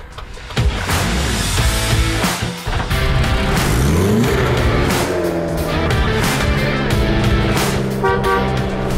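An old Volga sedan is tow-started by a Toyota Land Cruiser, and its engine roars loudly and continuously at close range. Revving, a horn-like tone and tire noise run throughout.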